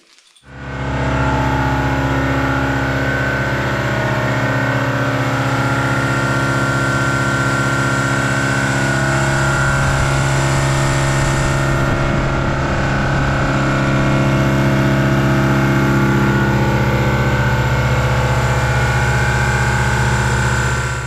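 A loud gas-engine-driven air compressor in a metal shop runs steadily for the whole span, its deep, constant mechanical drone and engine rumble sitting close and unbroken after a brief start.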